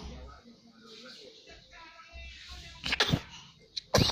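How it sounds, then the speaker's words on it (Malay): A baby in Garut sneezes twice in quick, sharp bursts near the end, after soft background voices and murmuring. "Bersin. Bersin neng."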